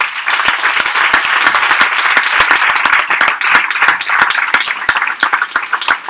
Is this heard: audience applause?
yes